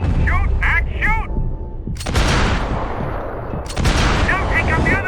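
Gunfire in the action game Max Payne 3: dense, loud shooting and impacts crowd a dramatic firefight, with brief lulls and voices shouting over the din.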